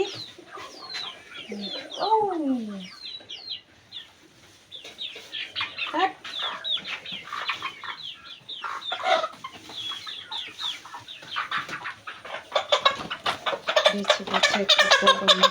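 A native deshi rooster in a village kitchen gives clucks and crowing-like calls, near and fairly loud at the start, then continues in bursts while someone talks over it.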